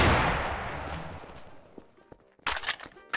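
A loud gunshot boom in Garry's Mod opens, its echo fading away, followed by a few clicks and then a sharp burst of further shots.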